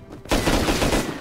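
A burst of gunfire in the survival game Rust starts abruptly after a quiet moment and runs as a dense, loud rattle of rapid shots.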